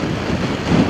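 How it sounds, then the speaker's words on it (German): Strong wind gusts across a treeless high plateau in Norway's Setesdal, a steady roaring rush close on the microphone with no voices. "Der Wind ist echt kräftig hier oben."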